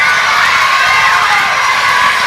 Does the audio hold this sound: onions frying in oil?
no